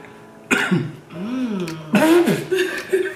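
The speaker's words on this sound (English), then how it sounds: "cough it out, sis." A sharp, close cough breaks out, followed by throaty, strained vocal sounds and another short cough.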